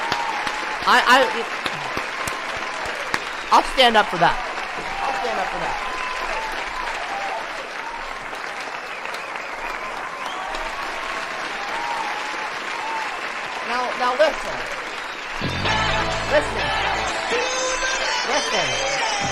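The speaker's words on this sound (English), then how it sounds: "Applaud for this guy." A live audience applauds and cheers a man for a remark about everyone being treated equally. The dense clapping runs steadily the whole time, swelling near the end, while he speaks over it.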